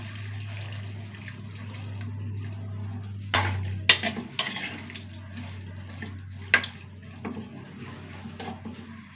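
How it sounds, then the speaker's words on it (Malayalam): Water is poured into a cooking pot while a Kerala-style dish with chilli powder, green chillies and salt is being made, a soft splashing over a steady low hum, followed by several sharp clinks of a metal pot and utensils close by. "വെള്ളം ഒഴിച്ച് കൊടുക്കട്ടെ."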